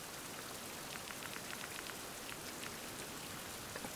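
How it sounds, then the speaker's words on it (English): Steady rain at night in the survival game Fountain of Youth, a dense even hiss of drops pattering on surfaces, continuous and moderately loud with no voices. "It's raining."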